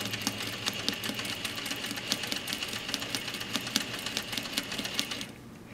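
A Juki 8700 industrial sewing machine stitches forward and then backward, its needle making a steady rapid ticking over a motor hum before stopping abruptly, heard close and with no talk.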